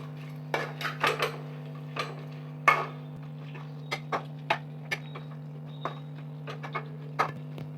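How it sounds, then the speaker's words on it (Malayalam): A spoon clinks and scrapes against a pan while fried chicken is stirred into chicken pickle, giving a dozen or so sharp metallic taps spaced irregularly over a steady low hum from the stove. "ഇനി ഇതിലേക്ക് നമുക്ക് ഫ്രൈ ചെയ്ത് വെച്ച ചിക്കനും കൂടെ ആഡ് ചെയ്ത് കൊടുക്കാം. ഇതെല്ലാം കൂടെ നമുക്കൊന്ന് നന്നായി മിക്സ് ചെയ്തെടുക്കണം."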